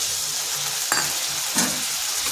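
Turmeric and a splash of water hit hot spices for a pointed gourd (potol) curry, giving a steady loud sizzle with two sharp bursts of spitting as the liquid lands, no voices.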